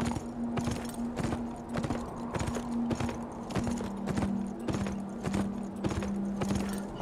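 Rhythmic clip-clop of horse hooves trotting at an even pace in the video game Beyond: Two Souls, close and fairly loud, with a faint steady tone underneath.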